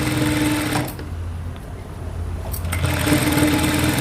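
Sewing machine stitching self piping onto a V neckline, a loud close steady mechanical whir that eases briefly in the middle before resuming at full speed.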